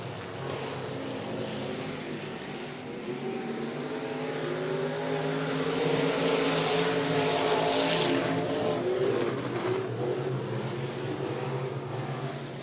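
Race cars circling the track at 105 Speedway, engines rising and falling in pitch as they pass, a loud sustained roar that swells toward the middle and eases off, no voices over it.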